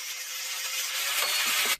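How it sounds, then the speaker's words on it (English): An angle grinder with a cutting disc slices through hard steel in a home workshop, giving a continuous bright, high-pitched grinding whine that swells slightly before stopping abruptly. "So I'm having to use an angle grinder with a cutting disc in."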